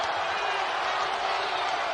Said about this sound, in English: Crowd is up.